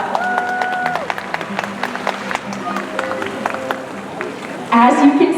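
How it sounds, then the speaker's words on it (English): At a SeaWorld San Antonio orca show, the crowd gives a scattered round of applause of sharp, uneven claps and cheers under steady music and a voice, with a louder burst near the end. "Give yourselves a big round of applause."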